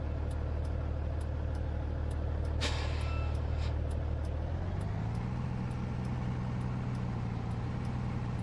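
A truck's engine drones steadily while driving through town in Farming Simulator 19, with a brief air-brake hiss partway through and the engine pitch settling lower afterward.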